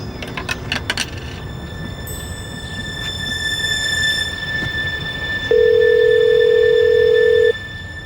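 A telephone rings in an indoor scene from a crime drama, ending in a steady loud electronic tone of about two seconds over a low background hum.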